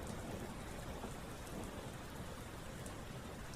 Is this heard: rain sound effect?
yes